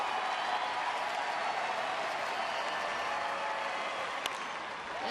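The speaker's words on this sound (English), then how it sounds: "Crowd on its feet here at Rangers Ballpark." Baseball crowd at Rangers Ballpark during a Rays at Rangers game, a steady wide roar of cheering and applause on their feet with no break, heard from a distance.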